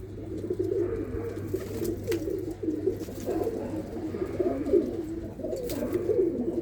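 Flying pigeons coo continuously at close range, overlapping throaty calls pulsing in uneven waves with a low steady hum beneath and no talk.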